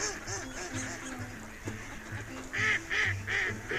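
Ducks and geese call at a marsh, a mix of nasal honks and quacks that repeat in a loose rhythm at moderate distance, with a louder run of honking near the end.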